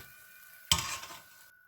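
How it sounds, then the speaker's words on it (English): Nigerian puff puff dough drops into hot frying oil, setting off a sudden loud sizzle that flares and then settles into a softer crackle over about a second, with no talking. "We are still frying."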